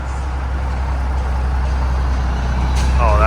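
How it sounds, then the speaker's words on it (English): A 379 long hood truck idles at a truck show with a steady, close, low engine rumble. A brief airy hiss rises near the end. "Oh, that is a nice truck."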